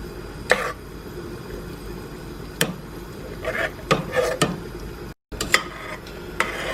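Blueberry jam stirred constantly in a pot, a spoon scraping and rubbing against the pot in scattered strokes and light knocks, close and moderately loud with a soft bubbling bed beneath.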